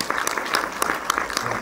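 Audience clapping at a film preview screening in a Gaumont multiplex cinema in Montpellier, a steady patter of many hands with brief louder peaks, lasting under two seconds with no voices.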